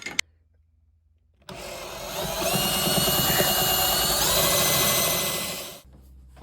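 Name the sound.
drilling through metal flange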